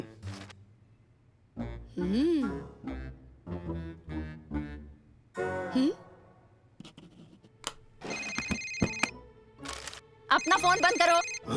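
Mobile phone ringtone going off in a library, a bright repeating electronic melody in the second half, close and loud, following and mixing with talk.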